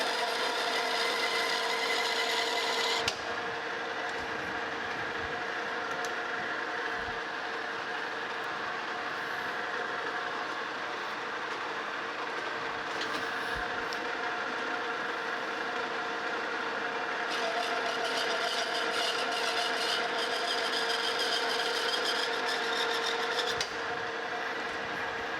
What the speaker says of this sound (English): And cutting threads here is going to be exactly the same as it would for anything else.